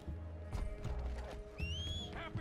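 Horse neighing in the video game Red Dead Redemption 2, a short rising whinny over a low mechanical rumble with faint hoof-like clatters around it, moderately quiet.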